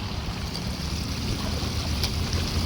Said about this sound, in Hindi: देखिए बिल्कुल लग रहा है जैसे झरना गिर रहा है, ऊपर से पानी आ रहा है।